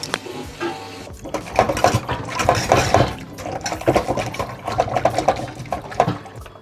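Yard-long beans and jackfruit seeds being washed by hand in water, with irregular splashing, sloshing and knocking in a busy, close stream that swells and eases over several seconds.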